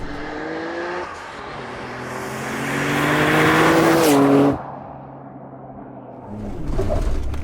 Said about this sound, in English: it's a new plated diff that I'm kind of wearing in, so I'm getting used to the noise myself